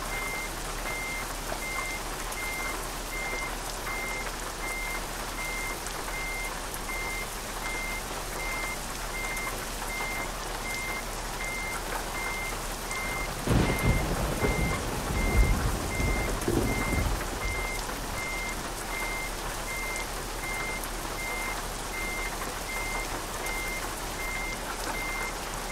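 In the Euro Truck Simulator 2 video game, a truck reverses with steady, evenly spaced beeps repeating throughout, over a constant engine drone, with a brief louder rumble of movement partway through.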